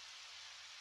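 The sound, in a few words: rain in a video game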